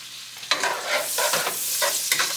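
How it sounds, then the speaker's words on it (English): Vegetables sautéing in a pan for a gluten-free chicken à la king, with a steady close sizzle and frying hiss broken by several scraping stirs. "sauteing"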